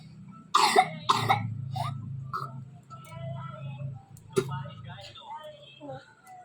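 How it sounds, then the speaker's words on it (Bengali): A sick child with a blocked nose, sitting with a bucket, gives two sharp coughs close by in quick succession, followed by softer throat and mouth sounds and a small click in a quiet indoor room. "একটুকুনি কাশছে"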